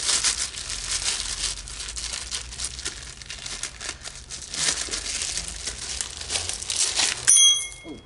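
Exhaust parts are pulled from a plastic bag with continuous crinkling and rustling up close, ending in a short metallic ring like a bracket knocking.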